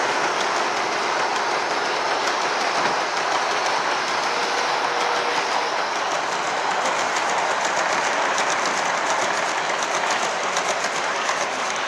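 Model trains in HO and N scale run around a club layout at an open day, giving a steady rolling rumble with faint clickety-clack over a busy hall din, with no voices.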